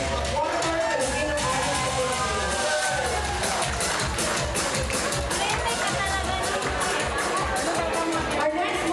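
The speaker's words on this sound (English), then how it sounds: "Round of applause for Miss Abigail Towel, representing Waterford Filipino" Audience applause at a gala fashion show for a Philippine Independence Day celebration, a steady dense clatter of many hands filling the room without pause, with crowd murmur mixed in.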